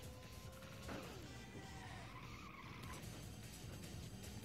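A car in the PS1 racing game Ridge Racer Revolution brakes hard and skids, with a loud, sweeping tire squeal lasting a couple of seconds over steady engine and game noise.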